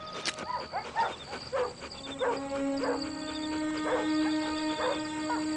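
A hunting dog out on a hunt gives a series of sharp, loud barks and yips at close range, starting in quick bursts and then spacing out, with a sustained tone running underneath.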